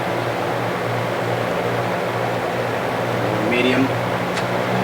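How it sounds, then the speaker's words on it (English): A GE electric fan whirring as it starts up, a steady airy hum with a low beating drone, near and continuous, with a brief faint squeak late on. "I love the startup sound on it."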